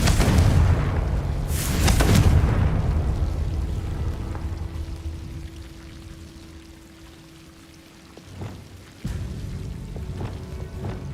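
Confringo fire spell in Hogwarts Legacy bursting with a heavy booming explosion that rolls off into a long fading rumble and crackle, followed by a few fainter impacts.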